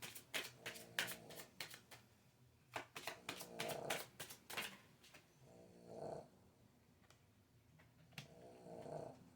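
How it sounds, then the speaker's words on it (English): Repeated crisp riffling bursts of a Kipper oracle card deck being shuffled, several quick ruffles close up with short pauses between them. "I'm just shuffling my Kipper Oracle deck here, our fortune telling cards"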